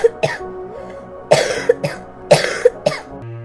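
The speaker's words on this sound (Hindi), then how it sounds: "वह जोर जोर से खांस रही थी" A woman sick with fever coughs loudly and harshly in repeated bursts, paired hacking coughs coming close and strong with short gasps between them.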